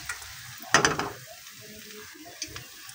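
Gulab jamun frying in oil or ghee while the pan is swirled, giving a close burst of sizzling and bubbling followed by quieter crackling, with no voice over it.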